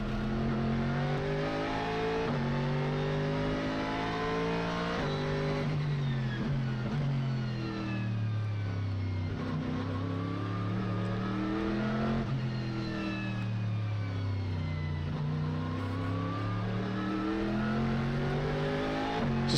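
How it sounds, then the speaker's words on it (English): A Corvette race car engine howls through repeated upshifts and downshifts during a Japan Cup race at Okayama, rising and falling steadily over about twenty seconds at a moderate distance with no talk. "Love the engine noise of the Corvette."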